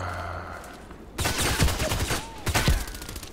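Video game gunfire in a shooter, a quiet start followed by two loud bursts of rapid automatic shots with brief pauses between them.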